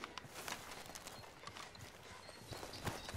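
Hooves of a horse clip-clop at a walking pace in Red Dead Redemption 2, a steady, soft rhythm of close taps over low game ambience with no talking.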